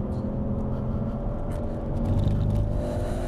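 An Audi RS6 brakes hard into a corner on a track, heard from inside the cabin as a loud, steady engine and road rumble with a low whir that swells slightly toward the end.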